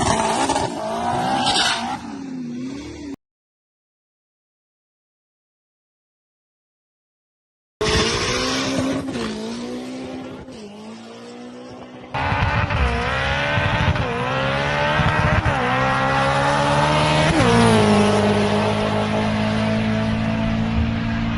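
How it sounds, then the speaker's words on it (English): Lowered Acura RSX making a quarter-mile drag strip pass, engine revving hard through the gears with rising and dropping pitch, a short silent gap, then a sustained loud high-revving run at wide-open throttle. "here's the little video clip of Michael's car running at the track"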